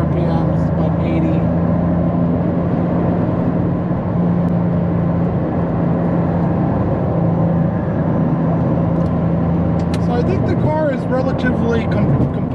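Porsche Carrera 3.2 engine pulling steadily at just over 3,000 RPM while driving at about 80, a loud continuous drone with road noise from inside the car and someone talking over it.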